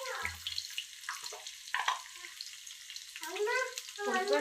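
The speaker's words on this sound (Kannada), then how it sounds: "ಈಗ ನೆಕ್ಸ್ಟು ಸ್ವಲ್ಪ ಜೀರಿಗೆ ಹಾಕ್ತೀನಿ." Cumin seeds dropped into hot oil in a pan, giving short, crackling bursts of sizzle with brief quiet gaps between them.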